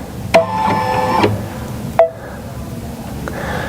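An embroidery machine stitching an applique outline on fabric, giving two sharp mechanical clunks followed by rapid whirring needle runs, close and clear with no talking.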